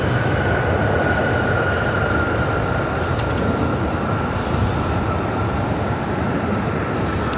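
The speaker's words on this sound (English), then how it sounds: "It sounds like they're going to have the Japan Dreamliner taxi down 24 right" A Japan Airlines Dreamliner taxis at LAX, a steady broad jet-engine roar with a faint whine, holding constant and fairly close for the whole stretch.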